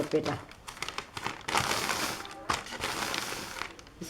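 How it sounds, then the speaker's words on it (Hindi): Paper being wrapped and folded while making a neckline design for a kurti: close, loud crinkling and rustling that comes in long scrunching bursts, with someone talking over it. "इस पेपर को इस तरफ से लपेटूंगी"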